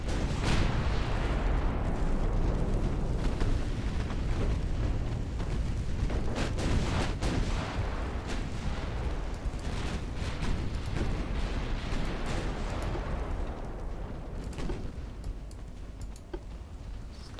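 Continuous naval battle din in Ultimate Admiral Dreadnoughts, British 1900 campaign: dense rumbling roar with repeated sharp cracks and booms of torpedo explosions and gunfire, loud and steady throughout.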